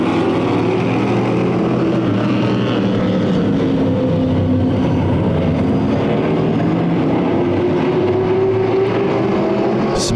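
Jr late model race cars at Irwindale Speedway pulling away on a restart, a loud, continuous roar of several engines with rising and shifting pitch, dense and sustained without a break.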